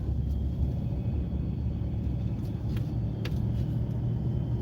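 A car driving and making a right turn at an intersection, heard from inside as a constant low engine and road rumble with faint small clicks and no talk.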